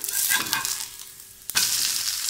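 Adai batter fries in sesame oil on a pan, giving a steady bright sizzle, and partway through it is flipped with a quick scrape, after which the hiss swells up again, close and fairly loud.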